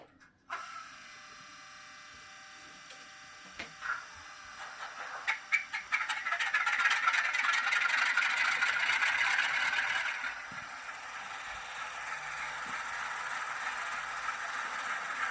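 A small motor whirs into life after a few clicks and rattles, settling into a steady buzzing mechanical hum that continues to the end: a Graham Farish Class 47 model diesel locomotive with DCC sound starting up.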